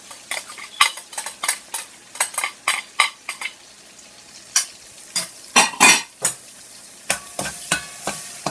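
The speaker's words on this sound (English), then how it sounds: "The garlic and the onion has been sauteing in the oil," Garlic and onion sauté in oil with masala and curry in a pot for jackfruit curry, heard as a run of sharp scraping stirs and utensil clinks over a soft sizzle, close and rhythmic without speech.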